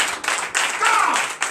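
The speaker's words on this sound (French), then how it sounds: "Donnez l'acclamation." A congregation at a morning prayer service clapping in short, uneven bursts, with talk mixed in over the clapping.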